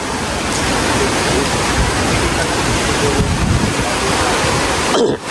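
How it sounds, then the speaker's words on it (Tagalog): A strong, steady wind roars across open water, a loud continuous rush with no pauses, close to the listener. "grabe ang lakas pa ng hangin"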